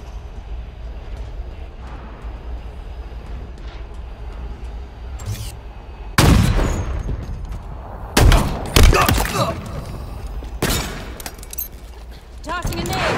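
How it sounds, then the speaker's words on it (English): Halo Infinite gunfire crackles in several loud bursts over a low game ambience, with rapid volleys and booms clustered in the second half while players talk. "A shot!"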